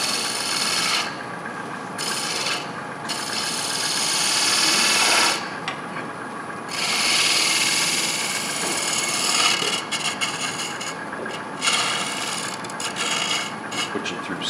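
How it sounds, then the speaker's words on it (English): Sandpaper rubbing on ash wood spinning on a lathe, a steady raspy hiss in several long strokes broken by short pauses, close and fairly loud. "Sand it up here."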